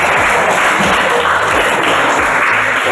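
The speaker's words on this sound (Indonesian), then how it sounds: "Ya, oke, tepuk tangan semua." Classroom full of students clapping together, a dense, loud, continuous burst of applause close by, filling the room for a few seconds with no talk.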